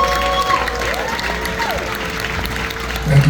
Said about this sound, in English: applause for all of our 2025 graduates